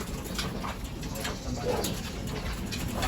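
Racing pigeon breeders in a loft give soft, continuous low cooing through a steady hum of background noise, with no clear individual calls standing out.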